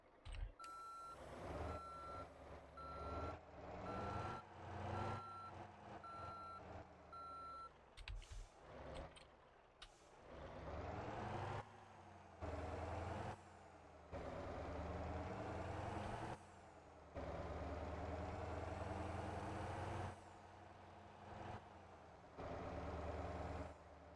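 A truck idles with a deep rumbling engine while its reversing alarm beeps in a steady repeating pattern, followed by a hiss of air brakes and the engine revving as the truck moves, loud and close, with no talking.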